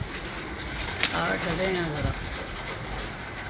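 Racing pigeons at a Lahore pigeon-flying championship give a short, soft coo in the middle, with someone talking nearby over it.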